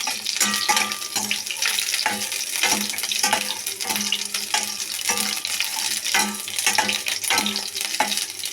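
Eggplant curry paste ingredients with curry leaves and coriander and chilli powders sautéing in a pan, with steady sizzling and repeated spoon scraping and stirring close by.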